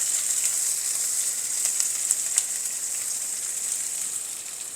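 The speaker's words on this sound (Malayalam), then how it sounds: "ഇതിലേക്ക് കൊച്ചുള്ളി ഇട്ടു. ഞാൻ ഉള്ളി ഒന്ന് മൂക്കണം." Shallots frying in hot oil for a Kottayam-style breadfruit thoran give a steady, even sizzle throughout, with a few faint clicks and pops rising above the constant hiss. No voices.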